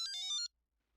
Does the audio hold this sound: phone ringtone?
yes